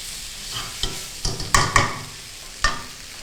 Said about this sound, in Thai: คลุกให้เส้นมันเข้ากับตัวซอสให้หมดนะคะ